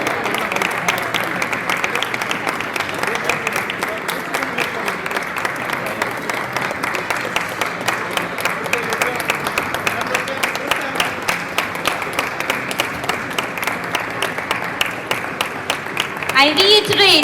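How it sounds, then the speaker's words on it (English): An audience at a book launch celebration applauds continuously, a dense steady wash of many hands clapping at close range that swells slightly louder in the final seconds. "Let's give a huge round of applause."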